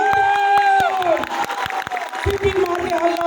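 A lively crowd at a business seminar cheers and claps, with whoops and shouts over scattered applause and loud music playing along.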